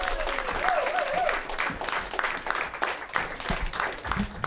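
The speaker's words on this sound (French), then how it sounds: "Des applaudissements yes." A live comedy podcast audience breaks into loud, sustained applause and cheering that stays strong throughout, with a voice briefly calling out over the clapping.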